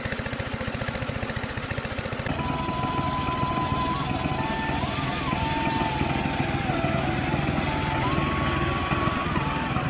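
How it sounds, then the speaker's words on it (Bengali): Steady chugging of a small irrigation pump engine drawing water, close and continuous with a fast mechanical rhythm, a faint tonal whine wavering above it after the first couple of seconds. "সেচ পাম্প দিয়ে পানি তোলা হচ্ছে"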